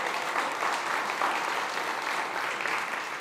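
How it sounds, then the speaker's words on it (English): An audience at an SXSW food event in Austin claps in a steady, dense round of applause, sustained and even throughout without breaks, moderately loud and close. "so give them a round of applause as well."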